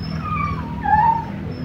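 A dog in a flooded house gives a thin, wavering whimper, a couple of rising and falling whines over a steady background rush of water.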